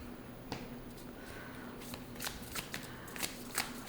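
An oracle card deck is shuffled by hand, giving a run of soft papery riffles and crisp card flicks close by, with no talking.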